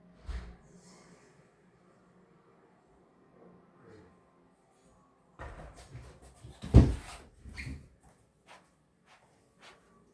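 A door being unlocked and opened indoors: scattered faint clicks, then a burst of handling noise with a sharp loud clunk of the latch and door, followed by a few softer knocks and rattles.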